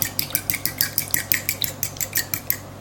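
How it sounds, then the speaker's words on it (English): A fork beats an egg lightly in a bowl, fast, steady metallic clinks repeating about five times a second, close and clear, with no voices. "Slightly beat the egg."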